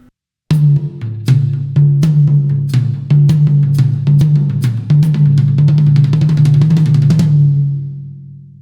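A drum kit plays evenly spaced sharp hits in groupings of three over a low droning tone, speeding up toward the end before ringing out.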